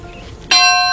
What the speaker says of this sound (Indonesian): Seperti di Bethlehem ada lonceng gereja.